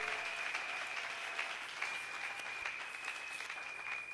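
A church congregation claps and cheers during a sermon, sustained dense applause filling the room at a steady moderate level.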